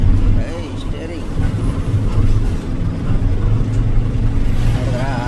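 A heavily loaded truck descends the Yellapur ghat road in sixth gear, its engine a loud, steady low drone with shifting tone, while someone talks over it throughout.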